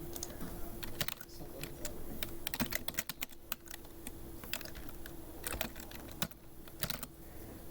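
Rapid typing on a computer keyboard, close and crisp, with irregular bursts of key clicks and short pauses, a few louder keystrokes standing out, and no voices.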